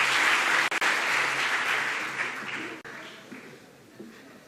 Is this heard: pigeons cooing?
no